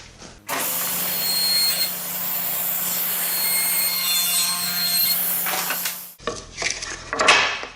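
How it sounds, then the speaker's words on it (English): A planer cuts a wooden molding blank held at an angle on a planer sled, giving a steady, loud grinding roar for about six seconds. The cut then stops abruptly, followed by brief rustling and handling noise. "Then I lower the blade and adjust the fence to dial in the second cut in the same fashion."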